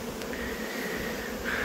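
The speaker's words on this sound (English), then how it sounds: "Alright, I got the bees in there." Honey bees buzz steadily as they are shaken into a hive box, a dense, continuous hum close by with a brief rising whine near the end and no voices.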